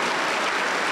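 Congregation applause during a Spanish-language church service, a loud, dense, continuous roar of many hands clapping at once.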